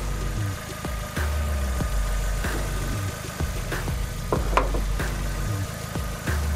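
A 1999 Mazda MX-5 Miata engine idling with its hood open, a steady low rumble with a few light mechanical clicks and taps, heard up close.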